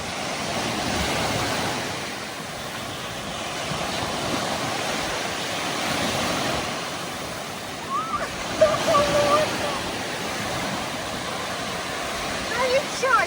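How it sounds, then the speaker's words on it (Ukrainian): Black Sea surf washing onto the beach at Kurortne in Odesa region in July, a steady broad roar of breaking waves with some wind, continuous throughout, with faint voices briefly audible near the end. "Як море хвилюється."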